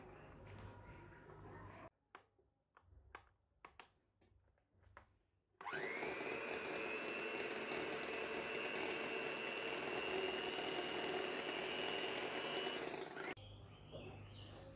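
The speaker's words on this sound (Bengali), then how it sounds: "আমার বিটারে যেটা 1 লেখা আছে 1, ওটাতে আমি 1 মিনিট বিট করে নিচ্ছি।" An electric hand beater whirs at low speed through cake batter for a fruit cake, a loud steady motor drone that starts after a few clicks and taps and runs about eight seconds before cutting off.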